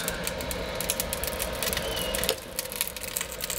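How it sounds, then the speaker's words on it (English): Charcoal burning inside a Gravity 980 grill gives a steady crackling, popping hiss under a low fan rumble, close and continuous with scattered sharp snaps and no talking. "you can hear that fire going"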